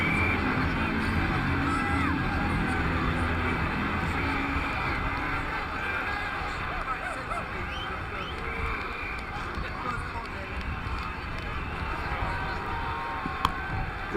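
A stadium crowd in Ashes Cricket 2009 cheers after a big shot, a broad, steady roar of many voices at moderate level that slowly eases across the stretch.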